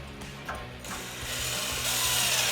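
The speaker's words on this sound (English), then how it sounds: "I'm going to tighten the bracket that came with the kit that we kept loose right here." A ratchet tightens a bracket on a Jeep Gladiator JT heavy-duty front bumper, giving a close series of crisp, evenly spaced mechanical clicks that speed up slightly toward the end.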